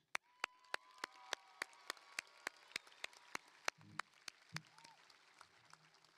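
Graduates at a graduation ceremony clapping slowly and sparsely, a series of distinct, evenly spaced claps standing out against a quiet hall, faint overall.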